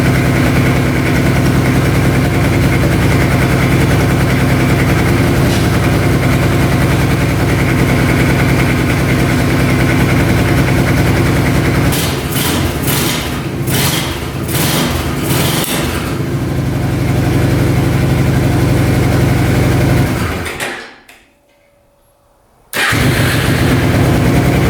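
An ATV engine, freshly carb-cleaned and with its airbox refitted, idles loud and close with a steady rough drone, then gives several quick revving bursts, and finally cuts out to near silence for a couple of seconds before restarting.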